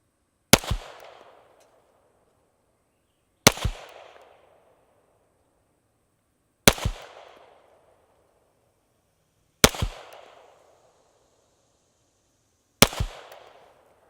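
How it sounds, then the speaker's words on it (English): Five pistol shots fired one at a time at a bullseye target on a range, each a sharp loud crack with a short decaying tail, spaced about three seconds apart in slow, deliberate rhythm with nothing else heard between them. "I'm just gonna take my time and shoot 5 shots to that center bull"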